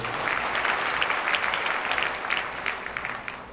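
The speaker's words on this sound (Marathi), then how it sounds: "ते टाळ्या झाल्या पाहिजे." An audience applauds after an interview answer, with dense, steady clapping from many hands that holds loud and then thins slightly toward the end.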